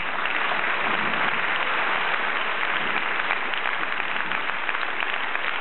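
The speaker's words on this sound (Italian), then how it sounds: "Qui tributerei un applauso." Jazz festival audience giving sustained applause, a dense, even wash of many hands clapping at moderate volume without pause.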